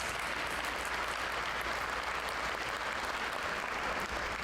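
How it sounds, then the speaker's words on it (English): An audience at a county sports Hall of Fame induction ceremony claps steadily in a large room, with dense, even applause holding throughout without a break. "please give a round of applause to Pfeiffer"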